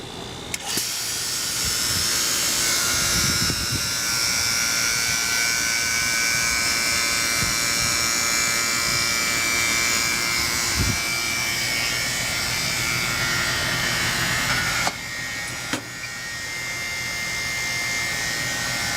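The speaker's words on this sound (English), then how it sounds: "So we'll go ahead and fire up our vacuum pump." A vacuum pump on an air conditioning evaporator coil replacement hums and whines steadily for a long stretch, loud and close, with a brief clunk near the end.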